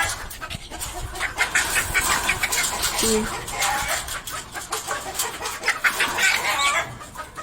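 Chickens cluck and squawk close by in a busy yard, with rustling, scattered bird calls and a few quick voices mixed in.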